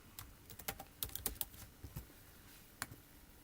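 Keys tapped on a computer keyboard while entering a word into timing software, a quick run of close, crisp clicks with short pauses and a final isolated keystroke.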